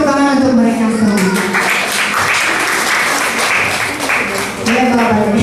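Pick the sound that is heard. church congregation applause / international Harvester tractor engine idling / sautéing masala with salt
church congregation applause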